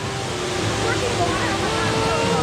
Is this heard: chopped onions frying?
no